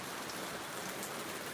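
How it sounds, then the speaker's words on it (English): Steady rain falls outdoors in the Philippine provinces, a soft, even, continuous patter of drops with no voices. "it's raining now"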